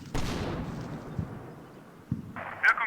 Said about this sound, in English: now the artillery is falling